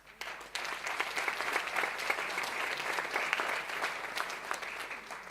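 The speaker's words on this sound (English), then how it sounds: "can we please applaud the pioneering efforts in this country of Professor Colin Tatz" A banquet audience claps loudly and steadily in a dense, sustained burst of applause that starts abruptly and holds for several seconds.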